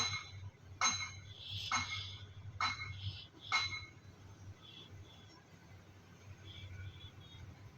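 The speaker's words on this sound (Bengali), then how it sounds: "ডিমটা আমি ভালোভাবে ঘুটে নেব একটু লবণ দিয়ে" A single raw egg being beaten with a little salt in a bowl for a green-tomato egg dish: four sharp utensil clinks against the bowl in uneven rhythm, close and clear over a low background hum.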